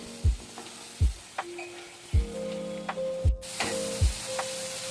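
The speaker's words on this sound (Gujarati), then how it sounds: "હવે આપણે આને થોડીક વાર માટે સાંતળી લેશું." A jamun kofta mixture sautéing in a pan gives a steady sizzle with several sharp scraping strokes of a spoon or spatula at a roughly even pace, close and moderately loud, with no talking.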